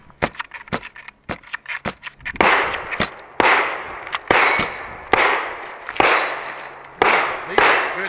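Shots from Glock 42 and 43X pistols at a shooting range crack out one after another, with about six loud, sharp reports in steady succession after a lighter, quicker string of clicks and pops.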